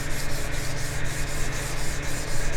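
Steady, rhythmic scrubbing rasps across a rusty cast-iron table saw top, a continuous close abrasive rubbing with regular back-and-forth strokes and no talking.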